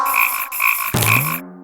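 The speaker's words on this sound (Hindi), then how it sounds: "भागो, मेंढक वापस आ रहा है।" A cartoon frog in Motu Patlu gives a few loud, close croaks, rhythmic pulses ending in a longer, sliding croak before cutting off.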